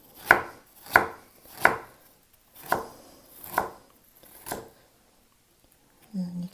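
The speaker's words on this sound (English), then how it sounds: "I'm going to take the core and slice in" Knife slicing through the dense core of a napa cabbage on a cutting board, six firm evenly spaced chops close up, then a brief low sound at the end.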